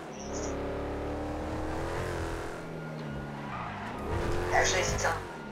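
A hot rod in GTA 5 Online skids through a turn, its engine droning and revving while tires squeal near the end, with people talking over it.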